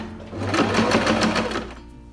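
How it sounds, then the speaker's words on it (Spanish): A sewing machine runs steadily for about two seconds, stitching a seam around the edge of a fabric laptop or tablet sleeve. The motor hum is close and continuous, then winds down at the end, with no talking. "voy a ir haciendo toda la costura alrededor y remato al final"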